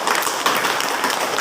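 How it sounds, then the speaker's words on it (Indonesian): A class claps together in a classroom, producing a short burst of loud, continuous, dense applause with no pause. "tepuk tangan dulu untuk kita semuanya"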